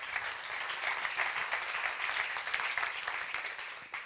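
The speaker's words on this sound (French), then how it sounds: "On les applaudit." An audience at an advertising awards show applauds, a dense, steady wash of many hands clapping together. It carries on evenly from start to finish and eases off slightly at the very end.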